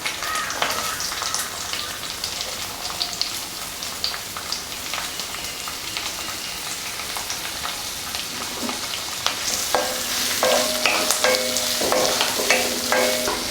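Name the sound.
onions frying in coconut oil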